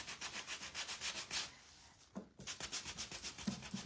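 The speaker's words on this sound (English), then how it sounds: "we're just sanding everything really quick" Rhythmic back-and-forth sanding on a wooden craft piece, a soft scratchy rasp repeating steadily with a brief pause midway, fairly quiet and close.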